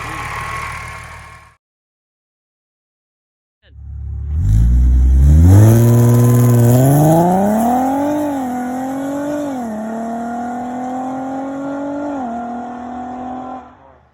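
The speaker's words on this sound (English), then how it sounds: "Hope you enjoyed that little clip of the car leaving." Audi A6 fitted with a 034 Motorsports 190mm lower pulley: its engine idles, falls silent, then starts and revs up strongly, pitch climbing in steps like gear changes as the car pulls away, loud and close throughout.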